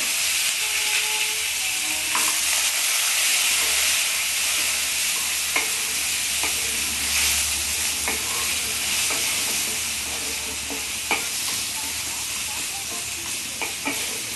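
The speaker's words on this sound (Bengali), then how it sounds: "আলুটা একটু ভাজা ভাজা করে নেব," Potatoes fry in a pan for a Bengali-style radish greens curry, giving a steady loud sizzle with irregular scraping stirs throughout and a faint voice briefly underneath.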